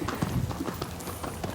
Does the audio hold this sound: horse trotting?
yes